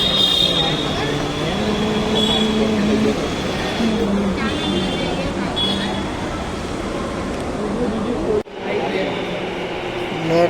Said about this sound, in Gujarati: મેટ્રો આવી ગઈ છે અને તમે જુઓ કે કેવી જોરદાર સ્પીડમાં મેટ્રો આવે છે